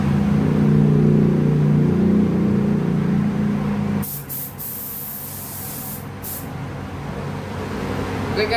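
A spray gun paints the body panels of a Mio Sporty motorcycle with golden purple paint, a loud steady hiss of pressurized spray up close, then short bursts after a drop in the background hum.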